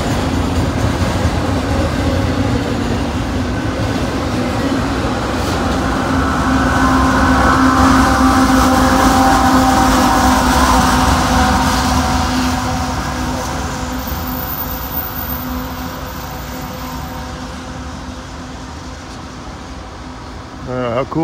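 Freight train with a distributed power locomotive rolling past, a loud continuous rumble and engine drone with faint wheel squeal, swelling then slowly easing, with a person speaking occasionally.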